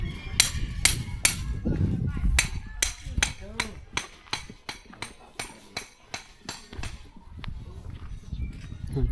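A knife blade is forged by hand in a rural village in Laos, with a long run of sharp metal hammer strikes ringing out one after another in a steady rhythm. Voices are heard at points between the blows.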